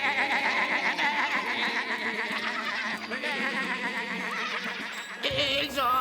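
Cartoon sheep from Garfield bleat in a loud, wavering chorus of overlapping cries, with a sudden shift in the middle.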